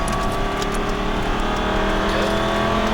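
An Aston Martin V8 Vantage accelerates hard on a race track, its V8 engine droning loud and steady from inside the car.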